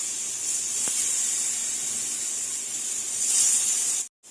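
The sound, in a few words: soaked elephant foot yam pieces placed into hot oil on tawa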